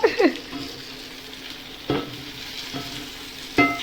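Egg thoran being stir-fried in a pan, with a soft steady sizzle and a few sharp scraping strokes of a spatula at the start and at intervals, close by and moderately quiet, with no talking.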